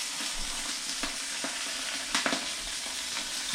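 Salmon, a huge fish, sizzles on an oiled George Foreman grill with a continuous hiss and scattered crackles and taps, heard up close with no speech.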